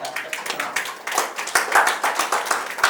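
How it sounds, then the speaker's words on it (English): An audience gives a round of applause for the keynote speaker at a public sector leadership forum. The clapping is close, dense and continuous, with a few sharper individual claps standing out. "So please a round of applause for our keynote speaker, Dr. Brown."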